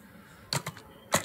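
Keys struck on a computer keyboard during office software work, a few sharp clicks in two short bursts separated by a quiet pause, close and clear.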